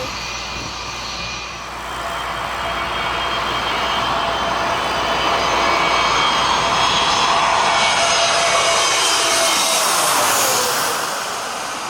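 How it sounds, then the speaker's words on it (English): A jet plane carrying Donald Trump, departing DCA in Washington, roars loudly and steadily, its engine noise swelling to a broad sustained rumble before easing slightly toward the end. "This is Donald Trump's plane."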